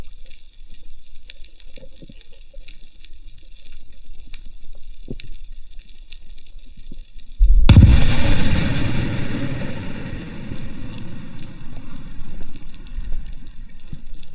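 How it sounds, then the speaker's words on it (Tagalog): A very loud explosion goes off nearby during spearfishing in the Philippines, heard underwater as a sudden heavy boom. A long rumbling, bubbling wash follows after a quiet watery stretch. "Grabing gulat ko sa napakalakas sa pagsabog mga ka-adventure"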